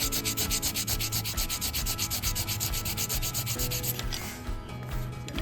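Sandpaper rubbed over stainless steel trim in steady, rapid back-and-forth strokes, close and loud, running continuously before easing into lighter scraping near the end.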